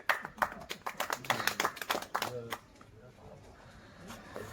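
Audience at a community event clapping, a burst of sharp irregular claps fading out after a couple of seconds, with a voice speaking over the start.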